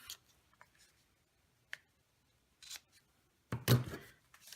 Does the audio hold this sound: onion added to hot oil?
no